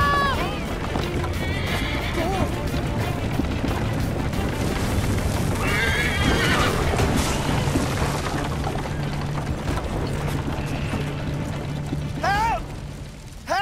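Horse hooves clip-clop at a gallop amid a busy Assassin's Creed Liberation game soundscape, with several sharp neighs and whinnies cutting through, close and loud.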